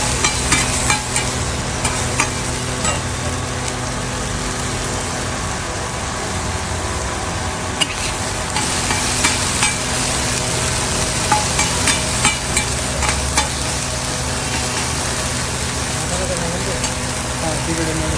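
Mushroom pieces sizzling and frying with garlic in a pan for a mushroom Frankie, a steady close crackle and hiss with occasional stirring scrapes, continuous throughout under faint background noise.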